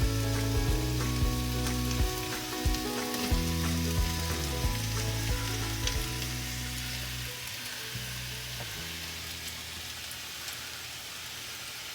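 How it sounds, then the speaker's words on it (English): Sliced Granny Smith apples sizzle and fry in a hot pan, a loud, dense crackling hiss that continues for the whole stretch and eases slightly toward the end, with no voices. "like the sound of the apples sizzling"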